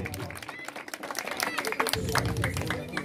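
A gathered audience at a ceremony claps to welcome a politician, with a continuous stretch of crowd applause mixed with background chatter and voices, fairly close and steady.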